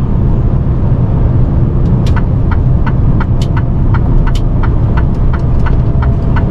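Truck cab interior while leaving the motorway at Rohrbach, a loud, steady low engine and road rumble throughout, with a series of short, sharp clicking ticks, like an indicator, repeating evenly over it.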